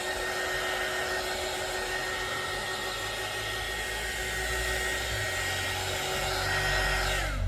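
A heat gun blows steadily to dry gold splatter paint, a continuous loud whooshing hum with a faint high whine, close by and without pause.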